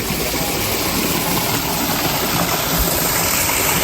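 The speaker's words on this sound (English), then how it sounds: "you can see they constructed a really nice waterfall" A constructed garden waterfall in a Japanese-style garden, cascading from upper levels, gives a steady, dense rush of falling water, close and fairly loud, unbroken for the whole stretch with no voices over it.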